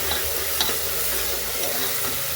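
Green pigeon pea curry being stirred as it fries in a pan: a steady close sizzle with faint scraping clicks of the spoon, no talking.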